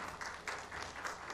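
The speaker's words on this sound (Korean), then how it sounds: "따뜻한 환영의 박수를 부탁드립니다" Welcoming applause from the audience at a church's 60th anniversary ceremony, a continuous spread of clapping, fairly faint and distant.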